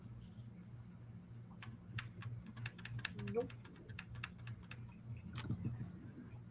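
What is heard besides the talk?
clicking on a computer keyboard while trying to fix it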